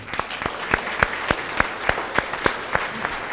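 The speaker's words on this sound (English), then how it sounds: "why don't we clap" Church congregation clapping in welcome during a Lutheran worship service, a steady round of applause with regular sharp claps throughout, fairly close and moderately loud.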